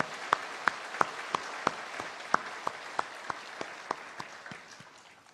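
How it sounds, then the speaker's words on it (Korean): A church congregation claps together in an even, steady rhythm, about three claps per second, moderately distant and slowly fading. "우리 빛 대신 하나님께 우리 영광의 박수 올려드리도록 하겠습니다."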